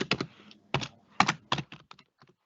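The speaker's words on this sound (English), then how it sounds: "this is me just manually typing the information" Someone types data into a computer keyboard, close up: irregular clusters of crisp keystroke clicks with short pauses between bursts, growing lighter and sparser toward the end, with no talking.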